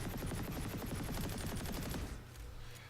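Rapid automatic gunfire from weapons in the shooter game Planetside 2, a dense, fast stream of shots for about two seconds that then cuts off, leaving a quieter tail.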